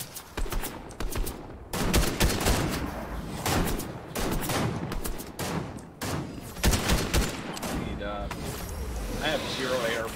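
Gunfire erupts in a shooter video game, repeated bursts and rapid volleys of shots, some close and loud, separated by brief pauses, with a player talking over parts of it.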